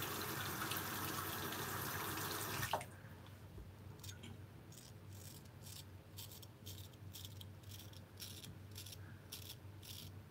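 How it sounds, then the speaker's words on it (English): A tap runs at a sink during a straight razor shave, a steady gushing hiss that cuts off abruptly after a few seconds, followed by faint drips, rinsing splashes and soft rhythmic scraping. "Running the water again for you."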